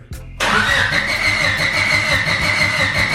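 A Honda Civic engine cranks over and over without catching, a loud, close, steady churning rhythm that follows a brief sharp click.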